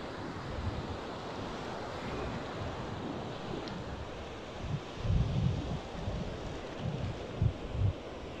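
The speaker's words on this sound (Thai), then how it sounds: "ช่วงนี้คลื่นมาเต็มเลยนะครับ บรรยากาศน้ำทะเลนะครับ" Sea waves roll onto Suan Son Pradiphat beach in Hua Hin, a constant broadband wash with wind buffeting the microphone, swelling into louder surges of breaking surf toward the end.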